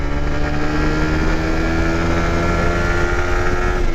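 Steady engine drone of a 2017 Suzuki GSX-R150 motorcycle underway, loud and continuous with a constant hum and wind rushing over the microphone.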